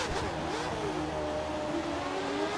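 An F1 2013 racing car in the video game at Abu Dhabi, its engine revving and accelerating with a rising, high-pitched whine out of a corner, loud and close, with no voices over it.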